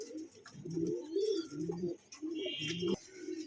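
Pigeons cooing up close at a pigeon seller's in Mirpur 13, Dhaka, Bangladesh, a series of soft throaty rolling calls repeating one after another, with faint chirps in the background.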